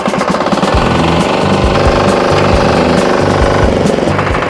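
A Firman FTI2010DE mini tractor engine runs loud and close on dry farmland, a steady rough chugging drone with a pulsing rhythm that never lets up.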